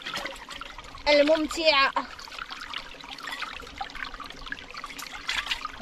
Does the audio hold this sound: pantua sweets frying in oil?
no